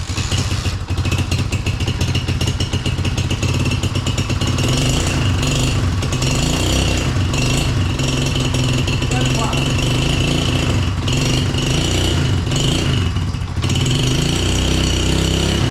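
A Benelli motorcycle engine runs continuously with a loud, throbbing idle and a few revs, while people talk over it.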